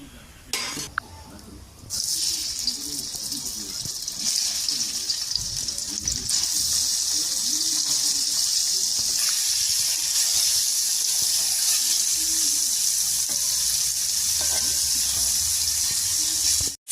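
Paneer frying in a little oil in a kadai for a vegetarian curry, starting with a few clanks and stirring scrapes before a loud, steady sizzle takes over and continues close-up, with occasional spatula stirs.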